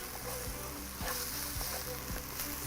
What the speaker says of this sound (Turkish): birazcık soğanın terlemesini bekliyorum şu anda